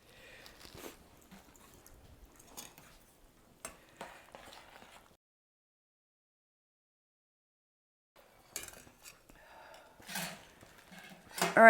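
A metal spoon clinks faintly a few times against a pot of pumpkin apple coconut curry soup, with sparse taps separated by quiet gaps and a short silent stretch in the middle.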